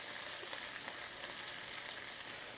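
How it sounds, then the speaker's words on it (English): Peppers and onions frying in a hot pan for shrimp pad thai, a steady, dense sizzle that holds loud and even from start to finish, with no voices. "I'm gonna turn the heat down just a little bit, and in goes our peppers and onions."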